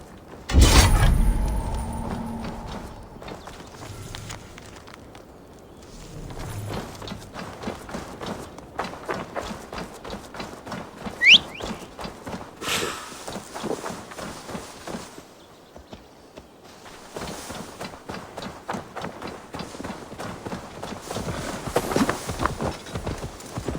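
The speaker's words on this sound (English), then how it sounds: "Now to deliver Magni his horse." Horse hooves clip-clop steadily through the Assassin's Creed Valhalla video game as a horse is ridden, with a continuous rhythmic run of hoofbeats at a moderate loudness and no talk.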